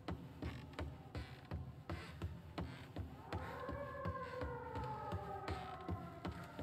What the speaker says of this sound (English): Sirens are getting louder, that's not good.